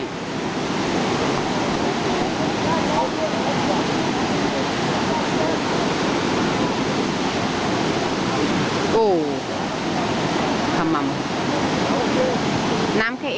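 Rushing water of the Eisbach river's standing wave in Munich's Englischer Garten, a loud, steady broadband roar that fills the whole stretch, with faint voices briefly audible near the end.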